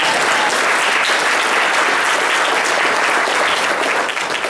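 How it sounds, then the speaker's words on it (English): Loud, dense audience applause at a lecture on the Constitution, a thick continuous roar of many hands clapping close by, holding steady before easing slightly at the end. "Give her a big round of applause."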